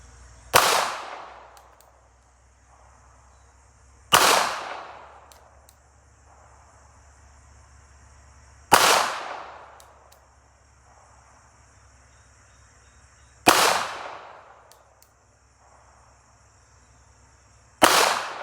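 A Smith and Wesson Bodyguard .380 pistol fires shots spaced a few seconds apart, each a sharp loud crack with a short decaying echo, with quiet background between rounds.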